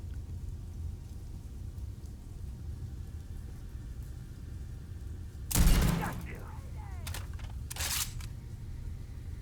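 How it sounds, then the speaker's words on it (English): A Starfield EM weapon being reloaded, heard as a sharp burst of mechanical clatter followed by a few shorter clicks and snaps over a steady low game ambience. "let me reload this"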